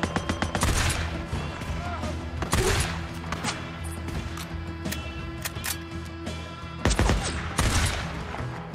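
Long-range rifle fire in Days Gone: a volley of loud gunshots in quick clusters, sharp reports at the start and again near the end, amid game sound effects and a voice speaking between shots.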